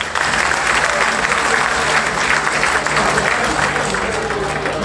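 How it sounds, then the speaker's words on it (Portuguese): Steady, dense applause from a crowd at an improvised folk singing night (desafio), loud and continuous throughout with no pause. "Uma salva de palmas para esta gente."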